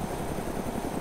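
A repaired Huey helicopter in DayZ gives off a steady, throbbing rotor and engine drone that stays close and constant throughout, with no voices.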